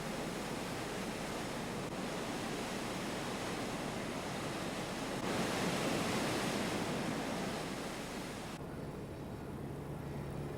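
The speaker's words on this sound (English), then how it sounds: "The necessary oxygen is supplied through these surface aerators." Surface aerators churn wastewater at a treatment plant, giving a loud, continuous broadband roar of turbulent splashing water that shifts slightly in tone over time, with no voices.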